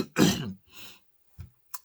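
A person coughs and clears their throat, a couple of close, husky bursts followed by a short pause and two quick smaller catches, with no talking.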